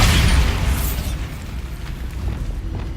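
The Bombarda explosion spell from Hogwarts Legacy goes off as a loud, close boom with a deep rumbling low end, then decays into a noisy debris tail.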